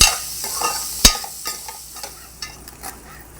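Onions frying in hot oil in a home kitchen pan, with a steady sizzle under repeated scraping and stirring strokes and a few sharp utensil clinks, heard up close with no talk.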